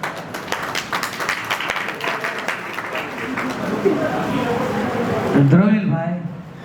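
Guests at a family reunion gathering applaud steadily under a man's amplified speech, the clapping continuing through the clip before a voice takes over at the end.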